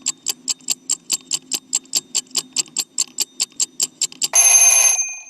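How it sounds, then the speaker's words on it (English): Sound-effect timer ticks at a steady, quick beat, about twenty sharp clicks in succession, close and clear, then an abrupt loud bell-like alarm ring bursts in at the end and holds briefly. "if you do want to have a nice ticking timer sound effect for when you do it at home"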